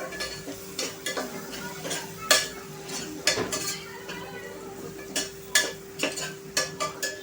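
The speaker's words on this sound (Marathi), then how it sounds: "आता आपण जे वाटण केलं होतं आलं लसूण शेंगदाणे मिरचीचं, ते ॲड करायचं आणि हे देखील परतून घ्यायचं आहे" A ground paste of ginger, garlic, peanuts and green chillies being sautéed in oil with tomato in a pan, a low sizzle under repeated scraping and clinking of a spoon against the pan, with a steady hum behind.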